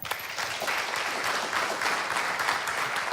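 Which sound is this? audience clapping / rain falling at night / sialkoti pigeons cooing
audience clapping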